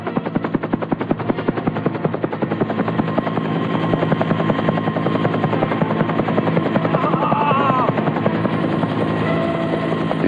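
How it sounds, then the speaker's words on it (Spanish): A rescue helicopter hovers about 50 metres overhead in gusting wind, its rotor beating in a loud, rapid, unbroken chop that stays close and fills the whole stretch. "el helicóptero no se hace esperar, situándose a 50 metros por encima de sus cabezas"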